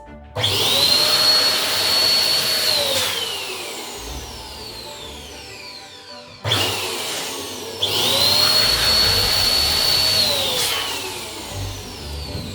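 Electric balloon pump inflating 11-inch round latex balloons, two long steady whining bursts with a rising pitch sweep at each start and stop, loud and close with no talking.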